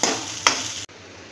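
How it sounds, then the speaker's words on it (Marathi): Spice masala of red chilli powder, turmeric and coriander powder stirred and sautéed in a hot pan, a close, loud sizzle with a sharp scrape of the spoon midway before the frying cuts out. "हे आपण चांगल्या प्रकारे परतून घेऊ."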